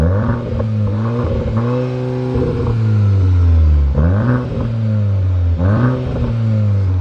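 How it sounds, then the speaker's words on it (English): A 2024 Audi S3 engine revs repeatedly, climbing to a loud, sustained high-rpm roar before dropping back, with three distinct blips standing out close up and no talking. "Right, give her a rev."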